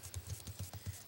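Typing on a computer keyboard: a quick run of about seven soft key taps in steady rhythm, quiet and close, with no voice.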